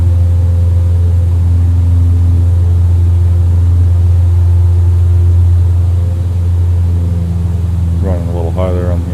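A steady, loud aircraft engine drone at high RPM inside a home flight simulator passenger flight, a constant tonal hum running throughout with a voice briefly heard near the end.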